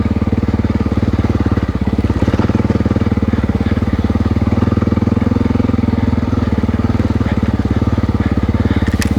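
A Honda XR600R dirt bike engine fitted with an FMF Q4 exhaust runs loud and close, holding a rough, steady idle-to-mid throttle rumble throughout with no talking.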